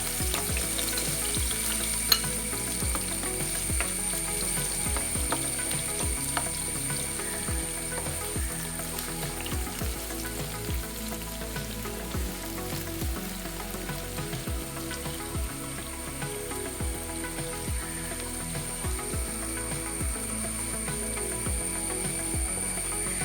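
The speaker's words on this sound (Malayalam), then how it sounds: "റൈസിനുള്ള സവാളയാണ് നമ്മൾ വറുത്തെടുക്കുന്നത്." Sliced onions fry in hot oil for Kerala-style mushroom biryani, giving a steady, close crackling sizzle with a rhythm of repeated metallic scrapes and clicks from stirring throughout.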